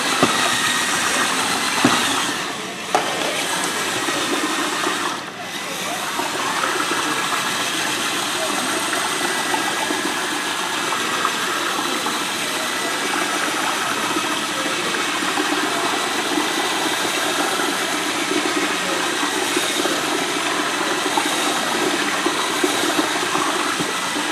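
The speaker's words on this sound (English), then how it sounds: "it's just a paint mixer. So you want to mix it up really, really well." Paint mixer on a drill stirring ceramic glaze in a bucket, a continuous whirring, churning drone with liquid sloshing, steady and close for the whole span.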